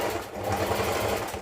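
A sewing machine stitching fabric runs in a steady, fast mechanical whir with a continuous rattling pulse, close and unbroken for the whole moment.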